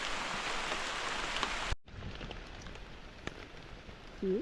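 Rain falls as a dense, steady hiss of drops on surfaces, then abruptly turns quieter and sparser partway through, with occasional single louder drops and no speech.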